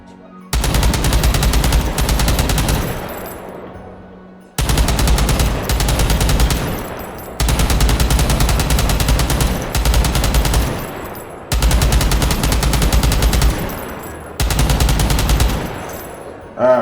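An M240 Bravo light machine gun fires in the virtual reality shooter H3VR. Five long, loud, sustained bursts of rapid automatic fire are separated by short pauses, and each burst tails off into echo.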